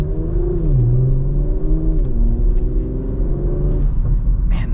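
A 2025 Porsche Macan GTS pulls hard from inside the cabin, its engine drone climbing in pitch, dropping sharply at quick gear changes and climbing again, loud and close with no one speaking.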